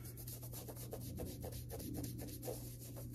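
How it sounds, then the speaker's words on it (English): A brush scrubs dirt and grime from the soles of a pair of shoes in quick, rhythmic, close rasping strokes over a low hum. "I'm going to first agitate"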